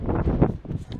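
Very strong wind buffets a microphone on a mountain hiking trail, producing loud, uneven low rumbling gusts that surge and fade throughout.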